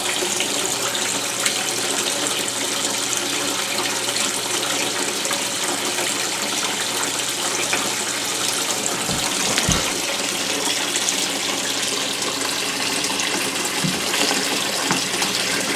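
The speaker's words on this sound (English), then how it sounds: "you can see already a little bit of water coming out" Water gushes steadily as an aquaponics grow bed drains through an auto bell siphon during its first test, a loud, continuous rushing flow close by with no talking.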